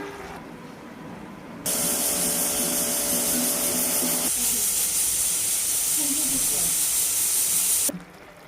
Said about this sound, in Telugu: కుక్కర్లో త్రీ విజిల్స్ పెట్టుకోవాలండి ప్రెషర్ కుక్కర్లో